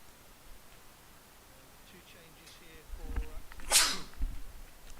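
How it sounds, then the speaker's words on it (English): A single sharp sneeze bursts out close to the microphone near the end, after low murmuring room noise, and a short bump follows. "Apologies for the sneeze."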